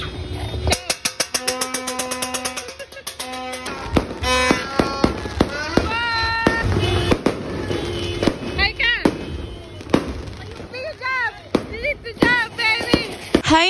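New Year fireworks and firecrackers going off nearby, a rapid string of sharp crackling pops followed by scattered loud bangs and whistling rockets, with voices talking and shouting through the celebration.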